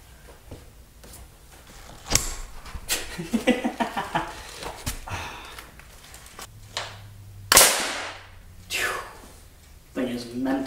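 A homemade hairspray-powered gun built from trash goes off with one sharp, loud bang in the middle of a busy indoor stretch full of talking, rustling and handling noises.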